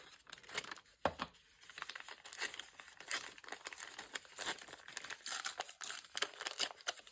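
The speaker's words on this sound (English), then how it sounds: "I think I'll just tear it." A strip of magazine paper is torn and handled nearby, with crisp ripping and crinkling sounds in several irregular bursts, fairly quiet and uninterrupted by talk.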